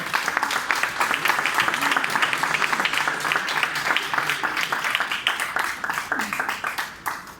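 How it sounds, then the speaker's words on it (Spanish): An audience applauds warmly for the author at a book presentation at an international book fair, a dense, steady clapping that carries on loud for several seconds with scattered voices mixed in. "para quien pido también un caluroso aplauso"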